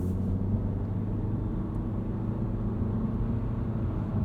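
A 2022 Honda Civic Touring Sedan cruising normally below 3,000 RPM gives a steady, low cabin rumble of engine and road noise, even and unbroken, with no talk.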